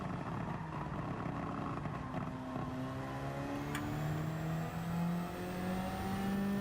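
A race car at Suzuka in the Gran Turismo video game drones at high revs, its engine pitch gliding upward through gears in a continuous loud whine, with no talking.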